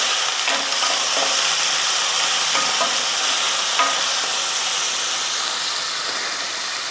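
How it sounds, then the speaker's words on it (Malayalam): Onion, crushed green chilli and turmeric are stirred in a pan for a Kerala taro stem curry. A continuous close sizzle carries light scraping strokes of the spoon, fading slightly toward the end. "ഇളക്കി കൊടുക്കാം."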